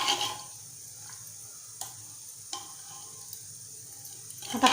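Sprouted brown chana usal, a Malvani-style curry, stirred in a pot: soft scraping strokes with faint bubbling, spaced irregularly, ending in a louder scrape.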